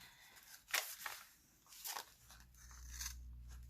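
Quiet, close snips of scissors slicing through a paper junk mail envelope, a few separate crisp cuts with soft rustling in between.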